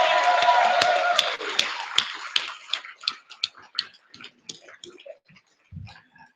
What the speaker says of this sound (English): give this man another round of applause